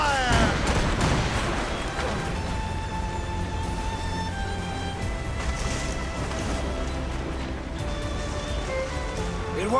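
A volley of ship cannons in Assassin's Creed Rogue bursts out at the start as a dense roaring blast, then rumbles and crackles over surging sea and wind noise, loud and continuous with no talking.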